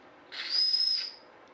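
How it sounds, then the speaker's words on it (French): A steam whistle on a large twin-cylinder model steam engine blows once, a steady high shrill tone rising out of a hiss and holding for nearly a second before fading. "Un petit coup au sifflet pour voir"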